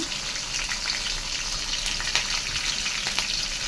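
Green chillies sizzle and fry steadily in a hot pan of oil, a dense, even crackle with small pops throughout and no talking.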